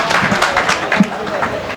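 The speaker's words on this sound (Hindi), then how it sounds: "जोरदार तालियों से इस्तकबाल करें" Audience applause at a mushaira in Kharghar, Navi Mumbai, greeting the poet Ajmal Arif Azmi. Sustained clapping with a crowd wash carries on steadily throughout the moment.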